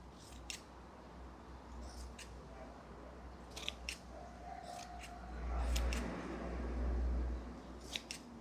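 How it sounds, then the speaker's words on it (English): Scissors cut through fabric in a craft studio, a handful of sharp close snips spread across a low steady room hum that swells briefly with a deeper rumble partway through, no voices. "Let me cut the fabric."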